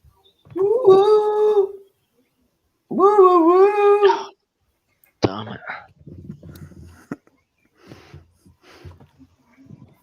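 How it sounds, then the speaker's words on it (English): A cat yowling as if tortured, two drawn-out wavering yowls a couple of seconds apart, loud and close, followed by softer snorting and scuffling noises. "That sounds like a cat being tortured."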